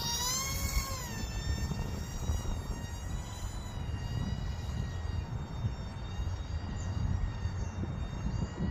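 A Volantex F16 Falcon four-channel RC plane flies with a steady, high-pitched electric motor whine that rises and falls in pitch, heard close and loud over continuous wind noise, with no talking.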